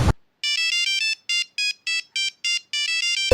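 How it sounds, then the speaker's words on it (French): A telephone in a video game rings with an electronic ringtone, bright repeated chirping tones in a steady pattern of short pulses, clear and close, with a brief noise at the very start and end. "Oh non, le téléphone sonne."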